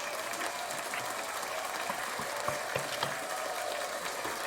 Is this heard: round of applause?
yes